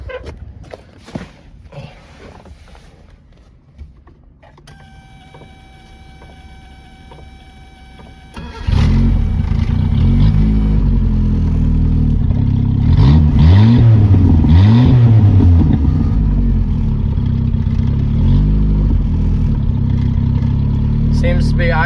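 A 1977 Honda CVCC engine cranks and catches, then settles into a loud, steady idle around 1,000 to 1,200 rpm with a low rumble, some revving in the middle, and faint talk beforehand.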